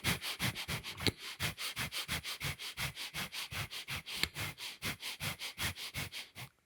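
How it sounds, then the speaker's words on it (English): Rapid, sharp nasal sniffing breaths from Bhastrika breathing practice, about thirty forceful pulses in steady quick rhythm, close and alone with no talking. "sniffing the prana when I need to, using Bhastrika"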